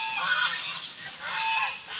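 Geese honking in a noisy flock, with overlapping nasal calls that carry on steadily, loud and close, and no voices.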